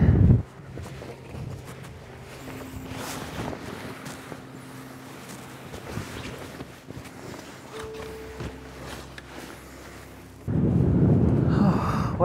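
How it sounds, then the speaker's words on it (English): Wind buffets the microphone in loud bursts at the start and end, with a steady low rumble and faint rustling in between, at an overlook in Christmas Rocks State Nature Preserve. "Well, the wind's picking up."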